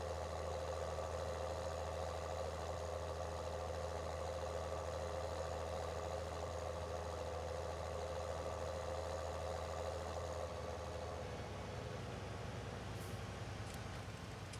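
Several farm vehicles in Farming Simulator 19 idling together, a steady droning engine hum with a low rumble, continuous and even throughout with no talk.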